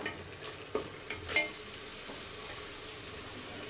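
Masala frying in ghee before chicken goes in for kabsa, a quiet steady sizzle with a few brief spoon clicks and scrapes in the first seconds, close and faint, without talk.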